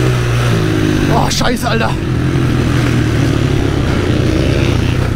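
Supermoto motorcycle engine droning loud and steady on the Motorsport Arena Oschersleben race track during an IDM race, heard onboard with a rider shouting over it.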